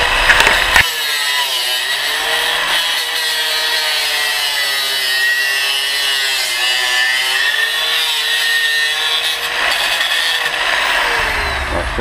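An abrasive grinder cuts through a 50mm front fork tube from a 1978 Suzuki GS550 motorcycle, making a continuous harsh, high-pitched whine with a steady grinding rasp close by, with no talk over it.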